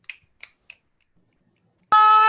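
Three crisp finger snaps from an audience at a poetry reading, close and evenly spaced, then a loud, harsh buzzing tone cuts in after a short silence.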